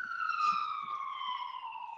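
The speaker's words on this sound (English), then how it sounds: "excuse the siren going by" A wailing emergency siren sounds at a distance, its pitch slowly falling as it passes, with faint thumps beneath.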